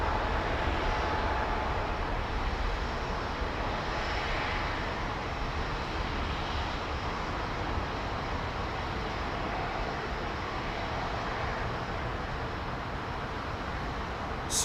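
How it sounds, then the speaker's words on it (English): An Airbus A320neo with LEAP engines takes off at London Heathrow, heard as a continuous broadband jet roar that stays loud and steady throughout. "Nick Hulse, that's a relatively new 320neo off to Madrid."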